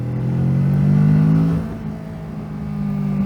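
A Kawasaki Z650 two-cylinder motorcycle engine revs high, a steady loud buzzing drone that eases off midway and then holds at a slightly lower, even pitch.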